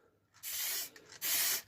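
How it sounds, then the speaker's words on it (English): Two short hissing bursts of varnish sprayed onto a plywood plaque, each lasting under half a second, separated by a brief pause, fairly close and quiet. "we'll just spray it on like so."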